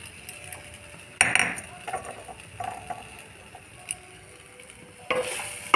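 Chalta (elephant apple) pickle with chili powder and ground yellow mustard paste is stirred in a pan, giving scattered scraping and clinking spoon strokes over a faint sizzle, with a few louder bursts of stirring.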